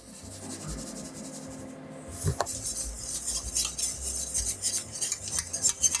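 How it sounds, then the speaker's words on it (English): Fresh whole nutmeg rasps against a microplane grater in a kitchen, a close, scratchy scraping that starts after a quiet moment and continues in uneven strokes, alone without talk. "We're also gonna use our microplane and shred in some fresh ground nutmeg."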